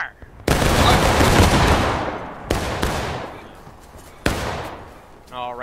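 Musket volley fire in War of Rights, three loud, sharp massed volleys a couple of seconds apart, each a crackling burst decaying into echoing rumble, with a voice briefly at the end.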